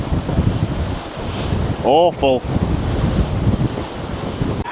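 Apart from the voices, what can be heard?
high tide waves and strong wind at Blackpool sea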